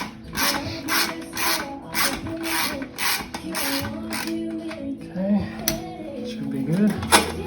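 A 15mm wrench ratchets to loosen the muffler clamp on a 2019 Indian Chieftain Limited motorcycle: repeated close clicking strokes in a steady rhythm, with someone talking over the work.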